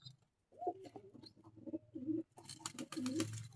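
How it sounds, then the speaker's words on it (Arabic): Pigeons in a pigeon loft give soft, close throaty coos in a few bursts, with a short rustle and flutter near the end. "الحمامتين بيعملوا تزاوج هناك أهو كمان"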